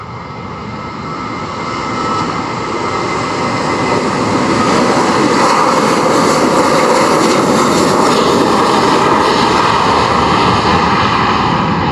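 A Southwest jet airliner takes off from runway 07 at Sangster airport in Jamaica, its engine roar swelling into a loud, steady, continuous rumble that holds to the end.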